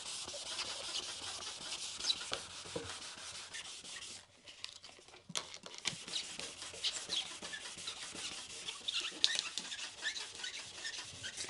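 An epoxy surfboard patch is hand-sanded in a continuous, soft, scratchy rubbing that keeps a steady back-and-forth rhythm, with a short lull near the middle; it is close and quiet, with no talking.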